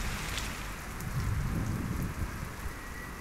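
Rain falls during the rainy season, a soft, steady patter on surfaces with a faint low rumble beneath, fairly quiet and without any talking.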